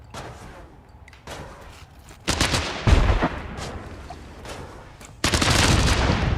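Gunfire from a homemade gun built in a pixel-simulation game, scattered shots and rapid bursts that build into louder sustained volleys, heavy thumps mixed in, with no talking.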